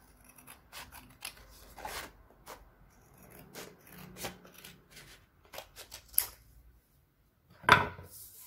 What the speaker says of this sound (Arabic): غادي نقطع هذا الطرف هذا اللي زايد